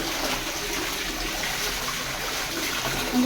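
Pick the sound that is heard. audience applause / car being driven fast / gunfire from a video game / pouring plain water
pouring plain water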